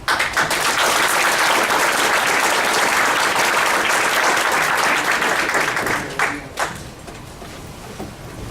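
A round of applause from an audience for a student and coaches, loud, dense clapping sustained for several seconds before tapering off toward the end.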